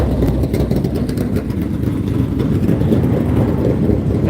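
Continuous loud engine rumble from race cars rolling through the pits nearby at Hendry County, with wind buffeting the microphone and no clear voices.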